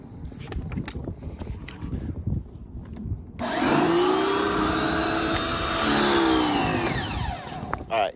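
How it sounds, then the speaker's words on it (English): After a few seconds of quiet handling noises, a pressure washer with a low-pressure tip blasts a car engine bay in a loud, close, continuous hiss that runs for several seconds before cutting off. "let's hit it with the pressure washer"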